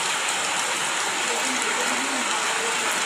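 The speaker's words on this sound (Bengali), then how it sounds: "এই মুহূর্তে বৃষ্টি হচ্ছে" Steady rain falls as a dense, even hiss with no breaks. It stays at a moderate level and shows no rise or fall.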